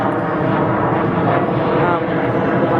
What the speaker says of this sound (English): there's a plane going over